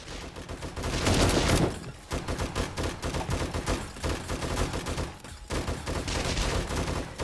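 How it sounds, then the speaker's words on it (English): Turrets in the video game 7 Days to Die fire at a horde of zombies in a dense, continuous stream of rapid gunfire, loud and sustained, with brief dips. "let's fire up our turrets"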